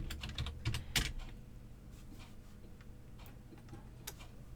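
Typing on a computer keyboard while entering text into a photo book layout, with a quick burst of loud keystrokes at the start, then softer, scattered key taps continuing alone.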